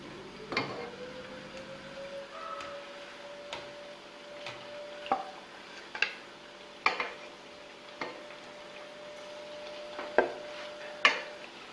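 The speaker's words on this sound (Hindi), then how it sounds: "तकरीबन 4 से 5 मिनट के लिए हमने इनको फ्राई करना है लो फ्लेम पे।" Milk-powder gulab jamun fry gently in oil on a low flame, a quiet steady sizzle broken by scattered sharp taps and clicks of a utensil against the pan, with no speech.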